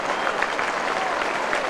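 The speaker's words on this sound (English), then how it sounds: "Crowd appreciating the efforts of players from both sides in that encounter." Crowd at an Australian rules football match between North Melbourne and Sydney, a continuous dense wash of applause and clapping from a large stadium crowd, steady and moderately loud throughout.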